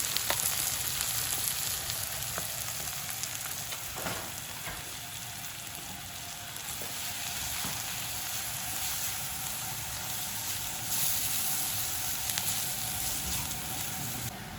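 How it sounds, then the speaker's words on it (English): Flour cooking into a roux with sautéed vegetables in a pan in Luxor, Egypt, producing a continuous soft sizzle with a few stirring taps, moderately close. "to the cooked vegetables, I'm going to add some flour. We're going to cook up like a roux."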